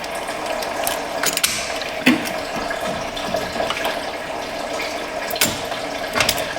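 A ratchet clicks steadily on the bottom alternator bolt of a 2011 Toyota Sienna, with continuous close ratcheting over a hissy, busy background and a few louder knocks.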